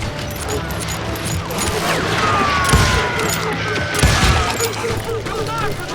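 Gunfire in the Western video game Call of Juarez Gunslinger, a dense roaring fusillade of overlapping shots and booms with a brief whistling streak, loud and continuous under game music and shouting voices.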